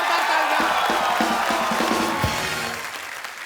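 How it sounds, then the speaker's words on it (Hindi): Studio audience on a Kapil Sharma comedy show erupts in loud crowd noise with applause and cheering for actor Hrithik Roshan, a dense sustained roar that starts strong and tapers slightly at the end, with a voice briefly audible. "एक बार ऋतिक रोशन के लिए जोरदार तालियां"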